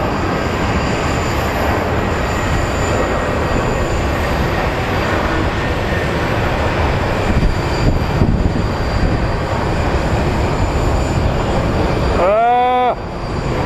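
A heavy Boeing 787 Dreamliner jet rolls down the runway for departure at Phoenix Sky Harbor Airport, a loud, steady broadband engine roar that holds without a break and drops away sharply near the end.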